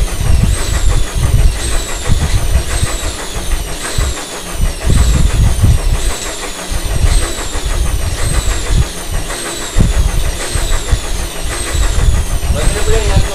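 A 450 W electric motor spins a flywheel in an inertioid device, producing a loud, rhythmic mechanical churning that pulses in repeating cycles, with a voice speaking over it.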